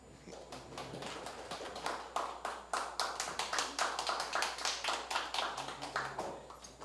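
An audience at an outdoor evening lecture and concert at Gongsanseong Fortress claps to welcome the director of the Korean Natural History Museum, the scattered claps building into steady, moderately loud applause.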